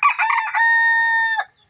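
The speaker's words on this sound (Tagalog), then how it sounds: "Yan yung tilaok niya." A Labuyo rooster gives a single shrill, loud crow up close, a rising opening followed by a long sustained tonal note that cuts off sharply after about a second and a half.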